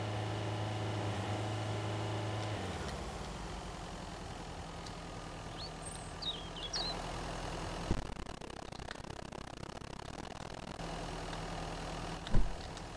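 A vehicle engine idles in the survival game Mist Survival, a steady low rumble that cuts off partway through, leaving quieter game ambience with a few faint clicks and a brief thump near the end.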